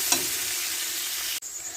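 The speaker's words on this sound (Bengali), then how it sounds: "পেঁয়াজ আর কাঁচা লঙ্কাটা হালকা করে ভেজে নেব।" Onion and green chillies frying lightly in oil in a pan, a continuous close hissing sizzle with a brief clink at the start and a sharp knock near the end, no voices.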